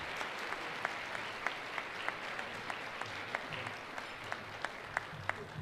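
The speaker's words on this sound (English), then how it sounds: "Give them a warm round of applause." Applause from the audience at a regional Emmy Awards ceremony, a steady, fairly faint patter of clapping with a few sharper individual claps standing out, no voices over it.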